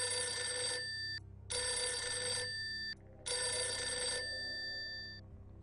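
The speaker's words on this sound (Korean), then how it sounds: "아침 6시가 넘어서자 행정실 전화가 요란스럽게 울려 퍼졌다." An office telephone rings loudly in three long electronic bursts separated by short gaps, the bright tone fading at the end.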